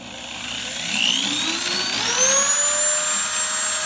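An electric drill motor, clamped in a vise for polishing with jeweler's rouge to sharpen carving tools, whines steadily, its pitch sliding upward as it spins up, then holding a loud, continuous high hum.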